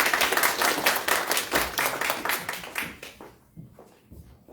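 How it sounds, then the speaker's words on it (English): Clapping from a small audience at a public speaking workshop, brisk and fairly close, fading out and thinning to a few scattered claps after about three seconds. "I'd like to have a warm round of applause for your guest faculty tonight"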